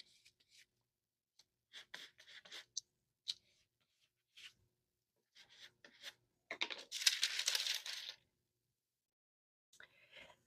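Vinyl is rubbed down through parchment paper onto a metal Christmas ornament, giving quiet, short scratchy strokes at irregular intervals and one longer, louder rub near the end, with no talking.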